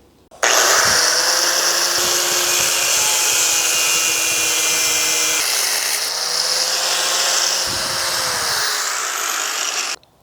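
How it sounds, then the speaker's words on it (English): An angle grinder cuts through the steel wing of a winch bumper, a loud continuous high-pitched whine running for about nine seconds, with a brief dip in pitch and several short interruptions as the disc bites into the metal. "I'm just gonna go ahead and lop this off with an angle grinder"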